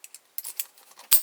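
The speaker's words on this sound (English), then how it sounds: "I'll go and grab the keys." Keys jangle close up in a quick, bright rattle of metal clinks, ending in a sharper louder jingle.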